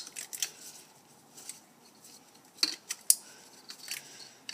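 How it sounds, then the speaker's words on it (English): Sensor connectors on a Chevy HHR snap into place with a few sharp, close plastic clicks spread over a few seconds, separated by quiet handling rustle. "I just want to push till it clicks."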